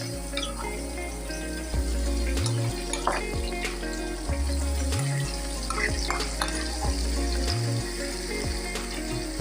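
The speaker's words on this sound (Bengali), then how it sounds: "এই বাটাটা নিয়ে একটু ভালো করে কষিয়ে নেব।" A paste of ginger, onion, garlic and green chilli fries in a little oil with a constant bubbling sizzle. It sits over a low mechanical hum that pulses on and off in regular cycles, with occasional stirring clinks and no voices.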